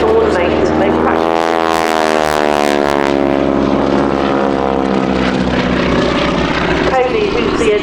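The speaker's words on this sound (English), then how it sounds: "keeps these engines purring beautifully" Propeller engines of a wingwalking display biplane at the Midlands Air Festival drone loudly and continuously, their pitch slowly rising and falling as the aircraft passes overhead.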